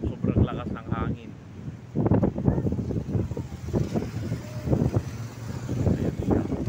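Gusty wind rumbles steadily into the microphone on a mountainside in Balaoi, rising and falling, as someone speaks over the blustery noise.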